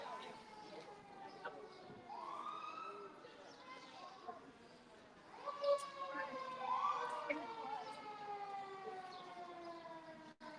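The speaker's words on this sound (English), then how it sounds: "We know it's Dedham when we hear a siren." A wailing siren in Dedham rises and falls at a distance, its pitch sweeping repeatedly while people talk nearby during a court trial.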